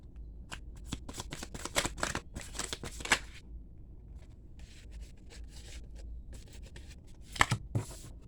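Tarot cards shuffled in rapid riffling bursts during an air-sign reading, loud papery flutters clustered early, then softer rustling and a final sharp pair of riffles, with no talking.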